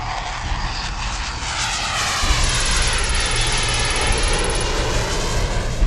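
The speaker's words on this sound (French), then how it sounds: "Le deuxième Rafale escorte l'autre jusqu'à la piste," Rafale fighter jet flying, a loud continuous roar of jet engines that swells and grows stronger partway through, close and dominant with no talk.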